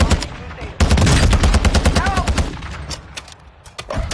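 Loud, rapid automatic gunfire in Call of Duty Warzone 2.0, a dense burst of close shots that thins into scattered single cracks, with no talk over it.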